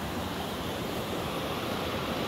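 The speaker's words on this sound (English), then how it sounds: "look at the great river" A rushing mountain river in the Sierra Nevada, a loud, dense, unbroken roar of churning water close by with no voices.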